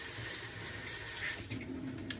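A kitchen faucet runs steadily while water is added to eggs, a continuous hiss with a few soft splashes and clinks near the end.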